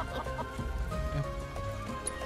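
Chickens in Final Fantasy VII Rebirth cluck in quick, fairly close bursts over a tonal game backdrop.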